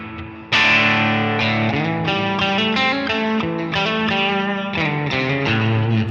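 An electric guitar plays a run of ringing picked notes and chords through a Line 6 Helix with reverb at a 40% mix, loud and close, with notes blurring into a washy tail.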